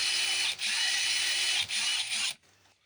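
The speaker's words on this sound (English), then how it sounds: "So now we'll take our drill and begin where our punch is" A power drill bores out a rivet with a loud, continuous high whine, dipping briefly twice as the bit catches, then cutting off abruptly near the end, close and without talk.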